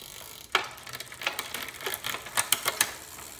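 Bicycle freewheel ticking as the crank is spun by hand after a wheel is refitted, a series of quick, close clicking bursts that bunch together toward the end, with no talking.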